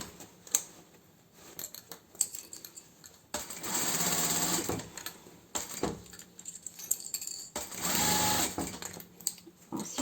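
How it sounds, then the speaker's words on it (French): A sewing machine stitches a fabric seam with piping, using a zipper foot, in two sustained runs of fast steady whirring separated by quieter pauses with light clicks and handling sounds. "Je pique sur la première couture là où j'ai fixé mon passepoil."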